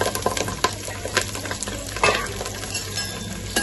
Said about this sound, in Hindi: इसमें मैं ये कड़ी पत्ता डालूंगी, ये तेज पत्ता डालूंगी और ये जो मैंने कांदा काटी हूँ ये कांदा डालूंगी